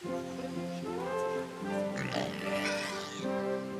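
A pig oinks and grunts in short snorting bursts over a steady background drone, with a faint voice-like murmur mixed in, from the video game Kingdom Come: Deliverance.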